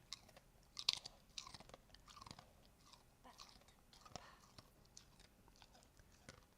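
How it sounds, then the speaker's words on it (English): Sadie the dog chewing right beside the microphone, a close series of wet crunches and bites coming in irregular bursts, with faint background noise behind. "She's chewing in my ear."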